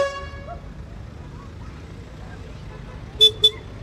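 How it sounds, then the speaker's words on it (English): A truck horn blasts twice in quick succession near the end, loud bright toots over a low rumble of passing engines at a night tractor run, with a faint earlier horn tone fading out at the start. "that's a fair old horn from that truck"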